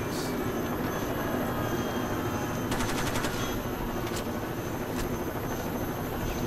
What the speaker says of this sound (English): I want to shoot the chopper.